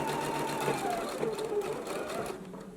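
A sewing machine stitches a shirt cuff seam at a 5/8 inch allowance, with a continuous close whirring run of about three seconds that fades slightly toward the end.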